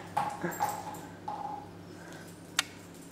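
A four-month-old dog gives several short high whimpers and yips while playing fetch with a ball outdoors, with faint background sounds and a sharp click near the end.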